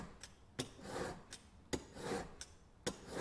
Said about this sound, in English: Turn that over to the 600 grit fine stone.